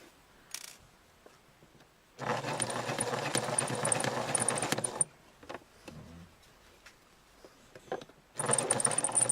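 A malfunctioning sewing machine running in two bursts, a loud rattling, clattering whir lasting a few seconds, stopping, then starting again, close and noisy with faint handling sounds in the pauses.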